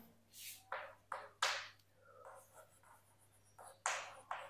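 Chalk or marker strokes on a board during a Hindi-medium Class 10 science lesson on light, several short scratchy bursts at an uneven pace, close and fairly quiet, with no talking.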